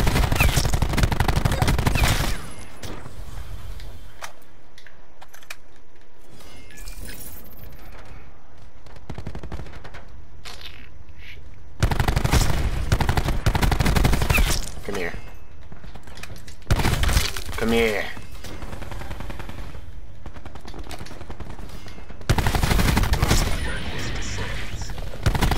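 Bursts of loud, rapid automatic gunfire from a shooter video game come in several dense volleys, separated by quieter stretches with scattered shots.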